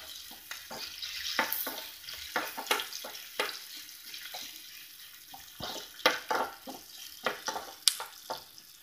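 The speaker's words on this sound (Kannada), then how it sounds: "ಕಾಯಿ ಮೆಣಸು ಕೂಡ ಇದರಲ್ಲಿ ಸ್ವಲ್ಪ ಫ್ರೈ ಆಗಲಿ." Green chillies frying in oil in a pan, a soft continuous sizzle under sharp, irregular clinks and scrapes of a utensil stirring, loud and close with no talking.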